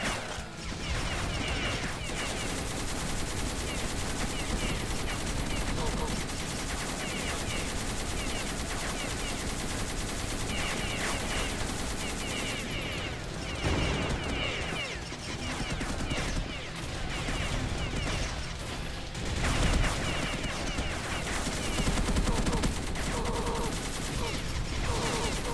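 Sustained rapid enemy gunfire fills a combat scene in the video game Beyond Citadel, dense bursts and fusillades running almost continuously, loud and close, with occasional crashes and whooshes mixed in.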